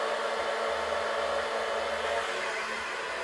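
A blow dryer runs steadily nearby, a constant airy whoosh with a low motor hum, even in level and fairly quiet throughout, with no speech.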